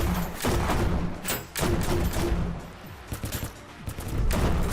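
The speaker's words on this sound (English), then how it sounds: "Who is shooting me?" Gunfire in the video game Kinki Spiritual Affairs Bureau, a loud dense volley of shots and thuds over a rumbling engine, dipping briefly before bursts resume.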